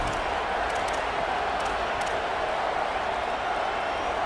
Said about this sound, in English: Now this home crowd making life difficult.